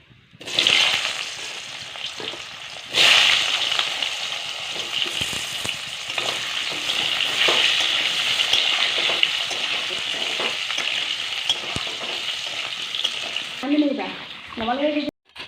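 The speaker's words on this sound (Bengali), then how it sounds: "এবার এই তেলের মধ্যে আলুগুলো ভেজে নেবো" Potatoes fry in hot oil left over from frying fish, a steady close sizzle with occasional stirring scrapes, and a voice briefly heard near the end.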